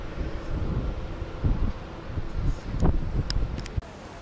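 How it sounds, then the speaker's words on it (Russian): Strong wind at a beach resort in Sharm el Sheikh, Egypt, in October, buffeting the microphone with low rumbling gusts that swell and ease, with a few faint higher clicks near the end and no talking. "ветер сегодня приличный."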